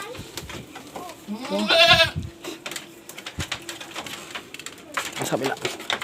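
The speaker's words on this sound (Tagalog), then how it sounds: "Yung bago nating kambing na papagandahin natin." A newly acquired female goat gives a bleat or two amid farm sounds, fairly close and loud near the middle, with people talking over much of it.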